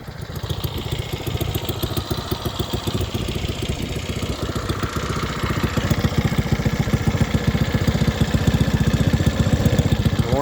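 A Hammerhead 150 with an exhaust upgraded to 2 inches idles steadily as it warms up, a close, loud, even engine pulse that rises slightly in level toward the end.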